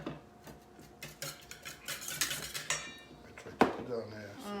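Metal whisk clinking and scraping against a bowl while beating oil into homemade mayonnaise or salad dressing, irregular taps and swishes at moderate loudness, with a sharper clank near the end and a voice speaking briefly.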